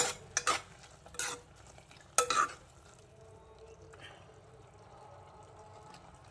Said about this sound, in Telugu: గరిటెతోటి బాగా ఇలా కలుపుకొని ఈ వాటర్ అంతా పోయే వరకు మూత పెట్టేస్తాం